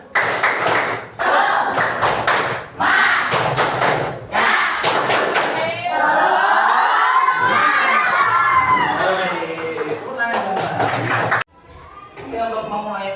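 A school class performs rhythmic 'tepuk semangat' clapping in quick, patterned bursts, with the children chanting and shouting together between and over the claps in a lively, echoing room.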